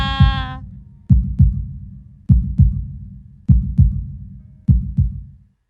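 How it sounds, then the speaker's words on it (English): A heartbeat sound effect from the visual novel Katawa Shoujo thumps in a steady rhythm of five loud, close double beats after a brief tonal note at the start, fading out at the end. "I listened to the sound of my heartbeat slowing down until it reaches its normal rhythm."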